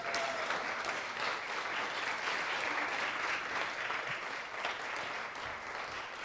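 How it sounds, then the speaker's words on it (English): A Toastmasters district conference audience breaks into applause during an award presentation, a continuous, even clatter of many hands heard at moderate distance, alone without talk. "Give that a round of applause."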